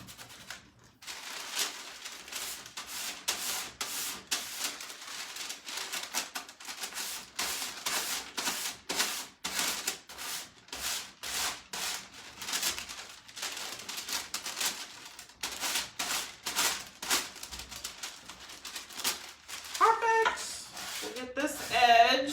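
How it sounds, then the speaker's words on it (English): A coarse sanding block rasps back and forth across an antique secretary desk in repeated close, rhythmic strokes, with brief pauses between bursts of scrubbing. "I'm gonna get a thicker grit sanding block. That'll probably make it a little faster."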